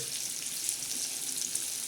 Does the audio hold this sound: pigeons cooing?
no